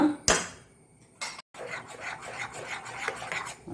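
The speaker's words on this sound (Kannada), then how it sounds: "ಚಾಪ್ ಮಾಡಿದಂತಹ ಕೊತ್ತಂಬರಿ ಸೊಪ್ಪು ಒಳ್ಳೆ ತಿರುಗಿಸಿಕೊಳ್ಳೋಣ." A spoon scraping and stirring chopped coriander leaves into bun dosa batter in a bowl, a sharp clack, then repeated gritty rasping strokes close up.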